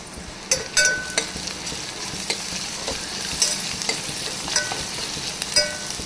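Garam masala being stirred into a frying mixture in a pan for tomato mutton bagara rice, a steady soft sizzle broken by repeated light scraping strokes of a spoon, close and moderately loud, no voices.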